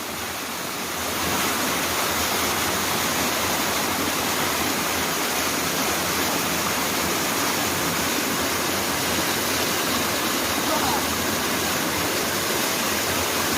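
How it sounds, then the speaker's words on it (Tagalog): Small waterfall flowing steadily, a dense continuous rush of falling water that sets in after about a second and holds at full strength, close and loud with no talk over it. "Maliit na talon."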